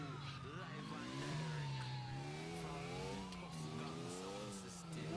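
Car engine revving hard and accelerating in GTA IV, a loud sustained whine rising and wavering in pitch with tire noise, with excited voices over it.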